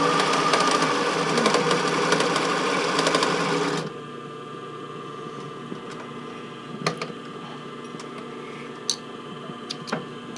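A sewing machine stitches swim fabric for a tankini in a loud, fast continuous whir, then stops, leaving faint clicks and handling noises.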